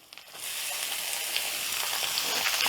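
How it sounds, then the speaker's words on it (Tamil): Sliced onions hit hot oil in a frying pan alongside dried red chillies while country chicken is cooked, giving a sudden steady loud sizzle that holds after a few small clatters at the start. "இப்போ வெங்காயம் போடுறேன்."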